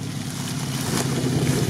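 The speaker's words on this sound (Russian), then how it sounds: "Слив воды." Water pours off an off-road UAZ on armored-personnel-carrier wheels after crossing a river about 1.6 metres deep, a steady close rushing wash with wind buffeting the microphone.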